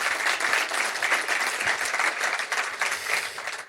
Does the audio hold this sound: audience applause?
yes